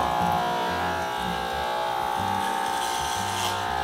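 An electric hair clipper buzzes steadily at moderate level while cutting hair in a home haircut, a continuous motor hum with slight changes in pitch as it moves through the hair.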